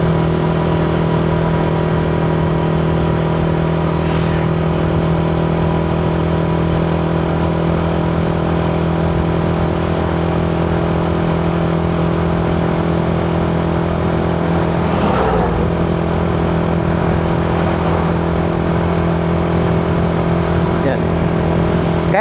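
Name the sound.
tuned Yamaha Sniper 155 motorcycle engine revving with iridium spark plug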